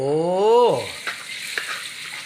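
Hot water boils in a wok with a steady bubbling sizzle and a few soft pops. A brief voice sounds at the start, then the sizzle carries on alone.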